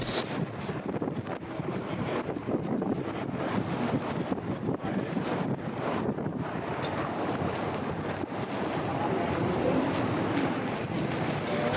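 Strong, steady wind gusting through a wintry Toronto street during a polar vortex, a continuous loud broadband roar with buffeting on the microphone and no speech.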